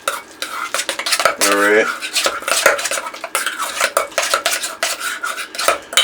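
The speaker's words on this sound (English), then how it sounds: "Then we're just going to mix everything together." Guacamole ingredients are mixed in a bowl with a utensil, giving a run of rapid scraping and tapping strokes. A voice briefly speaks early on.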